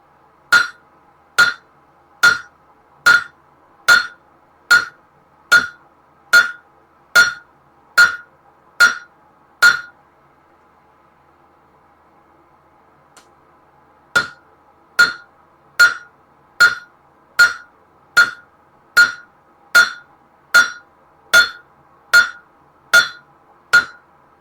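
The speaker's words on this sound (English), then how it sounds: "So we're going to come over here to the anvil, or to the horn of the anvil." Grill tongs are hammered on the horn of an anvil in steady, ringing metallic blows, one roughly every second, loud and close, with a pause of several seconds midway before the rhythm resumes.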